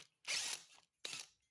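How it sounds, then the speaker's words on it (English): An electric drill bores a through hole in a propane forge burner assembly in a blacksmith shop, two short whining bursts of the bit, the first longer, close and clear with quiet gaps. "We're going to do that by drilling a through hole"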